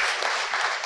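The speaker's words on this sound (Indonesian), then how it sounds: "tepuk tangan buat semua." Applause from a crowd of more than 200 people gathered for an evening meditation event in Jakarta, a dense, steady patter of many hands clapping throughout the brief moment.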